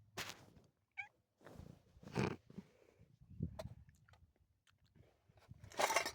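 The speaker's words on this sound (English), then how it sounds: "I have a cat, as you can tell." A pet cat close by, with soft mouth sounds, crunching and a brief meow-like cry among scattered rustles and bumps.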